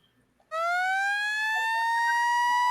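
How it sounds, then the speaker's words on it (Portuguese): A siren sound effect bursts in after half a second of near silence, a loud, clean electronic wail that slowly rises in pitch and holds steady without any speech. "Temos Sirene, André Hernan."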